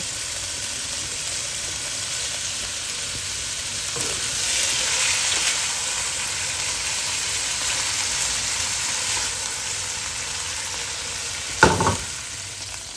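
Meat stir-frying in a hot pan, a steady broad sizzle running throughout at moderate level, with a sharp clack of a utensil against the pan near the end.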